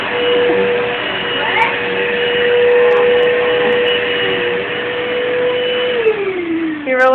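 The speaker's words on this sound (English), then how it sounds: "now he's dancing with the vacuum cleaner" A household vacuum cleaner runs steadily up close, a constant motor whine with a brief pitch drop near the end as it is pushed around by a seven-year-old.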